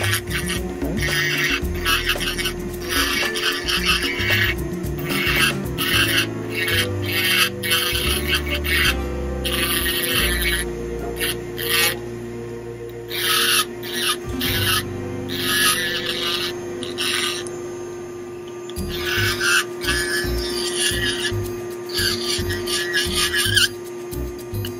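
Carbide burrs grinding pink acrylic on a denture conversion, bursts of harsh rasping and whirring that start and stop repeatedly over a steady high-pitched handpiece whine, close up.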